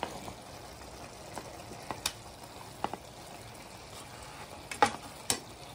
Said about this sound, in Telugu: ఇప్పుడు మనం మటన్ వేసుకుందామండి.